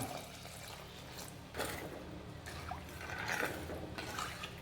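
Water pours into a pot of fish curry, a soft, faint trickle and splash that swells slightly as it goes on, heard up close with no talking.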